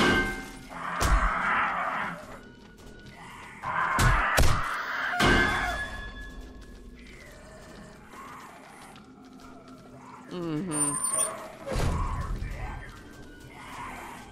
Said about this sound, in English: There's that stinking bird.